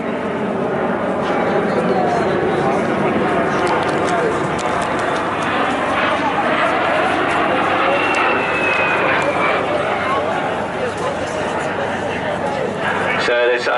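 A jet aircraft flies over the Bournemouth Air Festival beneath a clear blue sky. A loud, continuous engine roar fills the air, with a faint rising whine partway through, before the sound fades slightly at the end.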